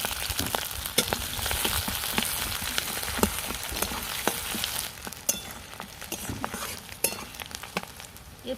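Chopped onion hits hot oil already holding panch phoron, a bay leaf and green chillies, giving a loud, steady sizzle and crackle with a few sharp spatters and stirring scrapes, close up and with no talk.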